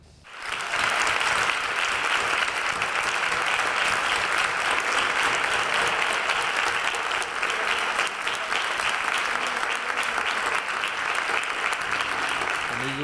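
Sustained audience applause at a tribute evening, a loud, dense wash of clapping that rises sharply at the start and holds steady throughout.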